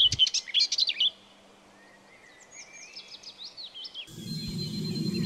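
Small bird chirping and tweeting in quick bright bursts close by while it eats fruit, then fainter high calls continue over a low background rumble.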